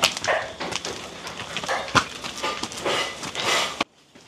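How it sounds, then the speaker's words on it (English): A dog barks and yelps in a string of sharp, irregular bursts indoors, fairly close, with short gaps between outbursts before the sound cuts off abruptly. "Oh. Bark."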